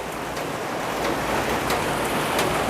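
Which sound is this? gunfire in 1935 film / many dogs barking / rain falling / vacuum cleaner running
rain falling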